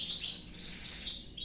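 Thin, high chirping of a baby bird still being hand-fed by its brooding mother, a steady run of soft calls with no voices.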